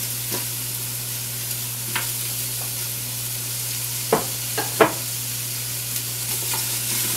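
Chopped squash browning in the inner pot of an Instant Pot, a steady low sizzle with a constant hum, broken by a few sharp scraping stirs near the middle of the clip, close and alone.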